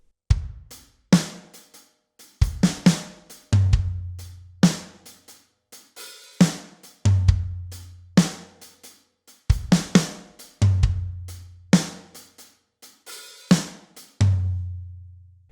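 Drum kit groove from the lyric section of a song, with sparse booming kick drums under sharp snare and cymbal hits in a steady repeating pattern, played alone and close.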